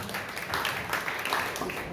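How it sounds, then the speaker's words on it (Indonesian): A Sunday worship congregation in church breaks into applause, a dense wash of many clapping hands at moderate distance, sustained throughout with a voice mixed in underneath. "Beri tepuk tangan bagi Tuhan."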